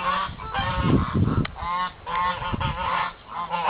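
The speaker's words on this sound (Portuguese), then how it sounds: "Aqui são as gansas brancas indianas." White Indian geese honk loudly and repeatedly at close range, overlapping nasal calls filling the whole stretch with brief dips between bursts.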